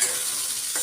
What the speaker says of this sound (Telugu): 1/2 టేబుల్ స్పూన్ జీలకర్ర, 2-3 ఎండుమిరపకాయలు వేసి వేయించుకున్నాక